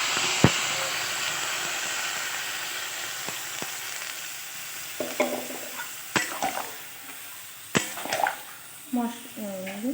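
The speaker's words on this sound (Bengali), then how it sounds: "সব রকম মশলা একসঙ্গে কষিয়ে নিয়েছি, এবার এর ভেতরে জলটা দিয়ে দেবো।" Water poured into a pan of fried spiced vegetables for Bengali shukto, a steady hissing sizzle broken by occasional clanks of a utensil against the pan, with a voice speaking briefly near the end.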